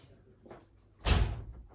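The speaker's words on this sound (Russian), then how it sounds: "Сейчас я дверь закрою." A door closes once with a solid, loud thump inside a home, preceded by faint movement sounds and a soft murmur.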